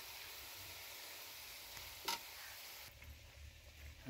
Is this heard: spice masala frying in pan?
yes